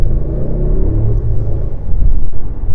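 A 2027 Audi RS Q5 Sportback hybrid prototype accelerates at the Nurburgring, giving a heavy, steady low engine rumble that stays loud and close throughout, with no voices over it.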